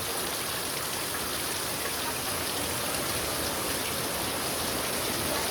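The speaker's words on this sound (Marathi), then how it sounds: "हे बघा कशा प्रकारे पाऊस पडतो आमच्याकडे" Heavy monsoon rain pours down steadily in Mokhada, a dense, constant hiss with no breaks and no voices.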